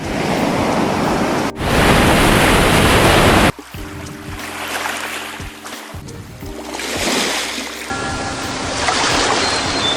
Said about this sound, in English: maybe we can use this ocean sound effects here, add it to another audio track